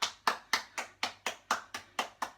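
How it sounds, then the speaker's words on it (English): A person claps hands ten times in a steady, even rhythm, each clap crisp and close in a quiet room. "Give yourself a clap."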